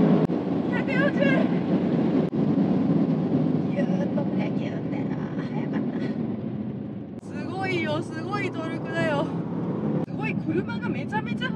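A Mercedes-AMG GT 63 S 4MATIC+ drives fast on a circuit, passing 200 km/h. Its engine drones steadily while someone talks over it almost the whole time.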